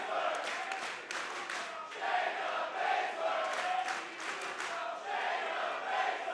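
A split wrestling crowd at a Prestige Wrestling show in Portland cheers and chants steadily throughout, a loud, sustained roar of many voices with rising and falling swells.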